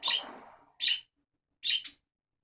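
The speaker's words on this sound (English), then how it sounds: "They've just heard the birds outside, so they're getting excited." Pet budgies chirp excitedly indoors, reacting to birds outside: a few short, bright, close calls in quick bursts separated by brief silences.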